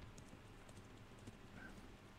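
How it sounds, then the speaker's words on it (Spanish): Horse hooves clip-clop steadily in the strategy video game Thronefall, a faint continuous patter of many mounted units under a low background hum. "Muchos caballos acá."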